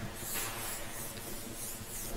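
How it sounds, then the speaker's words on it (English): A continuous soft aerosol hiss of glossing spray onto hair, close by, lasting a couple of seconds with no talking. "It's our glossing spray."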